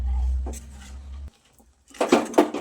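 Spoon scraping and clattering against a kadai while crushed sesame is stirred into a melted til mava mixture, a low rumble first, then a pause, then a few sharper knocks and scrapes close by.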